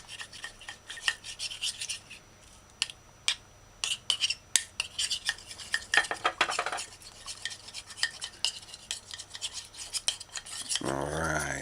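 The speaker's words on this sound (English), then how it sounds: "as for the marinating sauce, just kind of stir out the cornstarch and mix it smooth" A utensil stirring cornstarch into a marinating sauce in a bowl, with rapid close scraping and clinking strokes in irregular bursts, followed by a brief louder knock or bump at the end.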